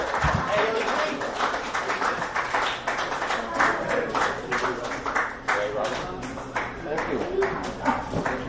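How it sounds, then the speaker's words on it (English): A dive-bar comedy crowd claps for comedian Dana Olita, with crisp, close handclaps forming a continuous patter while a voice talks loudly over it. "another round of applause for Miss Dana Olita"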